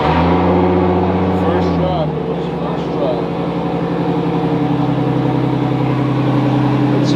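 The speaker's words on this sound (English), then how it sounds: "let's get inside the car and give her a crank" A Nissan 350Z with a swapped 2JZ engine cranks and then fires, settling into a loud, steady close-up running note with a harmonic drone that holds throughout.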